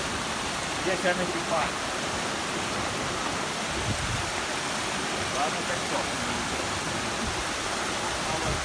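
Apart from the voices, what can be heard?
waterfall in Yosemite Park, California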